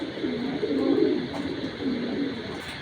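A racing pigeon at a breeding loft coos close by in soft, throaty rolling phrases, two or three drawn-out coos back to back with no voices over them.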